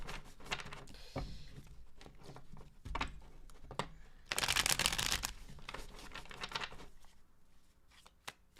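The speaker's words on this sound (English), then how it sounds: "Two more shuffles." Tarot cards being shuffled by hand, a run of soft riffling patters and flicks with one louder burst of rapid shuffling midway, close and alone.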